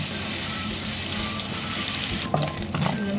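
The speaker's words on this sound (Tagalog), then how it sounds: "Pag mainit na po ang mantika, ilagay na po natin yung ating minced pork. Ang minced pork po ay lutuin po natin hanggang po ito ay mag-brown guys." Minced pork frying in hot oil gives a steady close sizzling hiss throughout, with a few clattering utensil knocks and stirring sounds toward the end, no voices.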